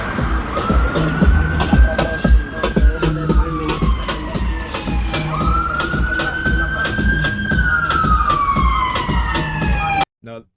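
Emergency vehicle siren, ambulance or police, wailing up and down in two slow, loud sweeps close by, with traffic rumble underneath, cutting off abruptly near the end.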